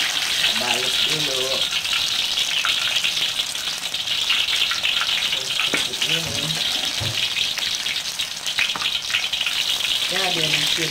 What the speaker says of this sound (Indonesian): Kita goreng-goreng. Goreng sebentar aja ya teman-teman ya.